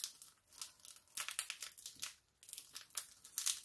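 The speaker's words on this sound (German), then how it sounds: "So, dann nehme ich mir eine Tüte." Thin plastic bag crumpled and scrunched by hand while packing diamond painting drills, a close run of crackling crinkles in repeated bursts with short pauses, no voices.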